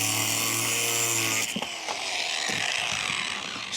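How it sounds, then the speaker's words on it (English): A cutoff disc trims a metal fence panel at a chicken coop with a loud, steady, high-pitched motor whine. It cuts out after about a second and a half, and a few sharp clanks and rattles follow. "I think the right thing to do is just trim this off with my cutoff disc and make it the right size"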